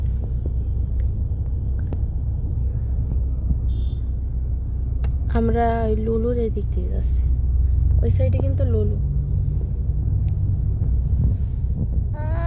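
A steady low rumble of a car driving, heard from inside the cabin, runs throughout while people talk over it.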